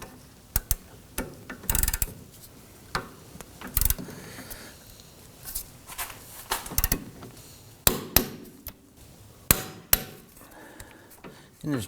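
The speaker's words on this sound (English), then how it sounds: "Let's torque down the bolts to 47 foot-pounds." A torque wrench tightens wheel hub bolts on a 2005-2009 Subaru Legacy during rear wheel bearing replacement, producing sharp metallic clicks and clunks in irregular bursts, close and fairly quiet between strikes.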